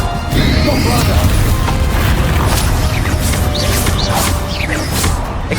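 Loud, sustained blasts from the Bombarda explosion spell in Hogwarts Legacy, with dense booming and crashing that fill the whole stretch, overlaid with sharp magical whooshes.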